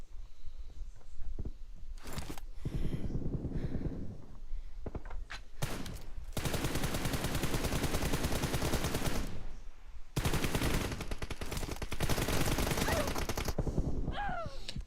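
Bursts of automatic gunfire from the PUBG Mobile game, several long, dense volleys separated by short pauses, loud and close, with occasional single shots and clunks in between.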